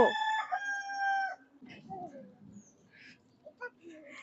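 A rooster crows once near the start, a bright drawn-out call, followed by quieter clucks and faint rustling at a distance.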